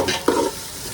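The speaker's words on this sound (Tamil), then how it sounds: "இப்போ இதை நன்கு வதக்க வேண்டும்." Ingredients for mutton biryani sautéing in a pan, a brief sizzle and frying crackle with a quick stir scrape, close and alone.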